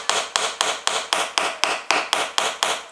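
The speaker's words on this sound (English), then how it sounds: "tap on another wheel and to work the axle through the hole, put it over a gap, keep tapping" Hammer tapping a wheel onto the axle of a spring-powered toy dragster, about ten sharp, evenly spaced blows at a steady rhythm, close and clear with no talking.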